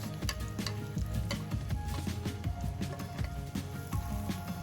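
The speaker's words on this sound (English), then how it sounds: "Put the garlic in. Oh, it's hot." Garlic sizzles and crackles in a hot pot over a bush cooking fire, a steady close frying hiss with spoon stirring and scraping mixed in, no voices.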